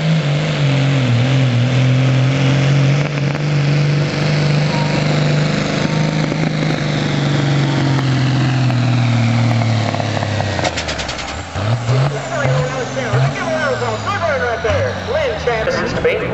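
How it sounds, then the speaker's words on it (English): A two-wheel-drive GMC dually diesel pickup pulls a sled down the track at a Kentucky truck pull. Its engine drones loud and steady, then dips and climbs in pitch as it strains under load, while an announcer talks over it. "We'll see how this two-wheel drive dually truck does."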